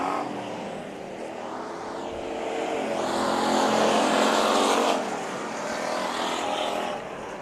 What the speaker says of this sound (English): it sounds like Denman is letting off really early